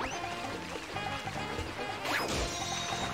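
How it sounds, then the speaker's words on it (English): Glass cages smashed by Yoshi in the video game Super Mario Galaxy 2, a sharp shattering crash with a splashy burst over continuous game music. "Which can destroy these glass cages."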